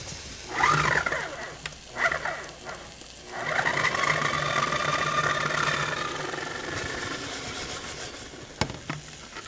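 Food processor blending rehydrated dates into a thick paste, loud motor whirring in several bursts with short pauses, then a longer sustained run that strains and stops.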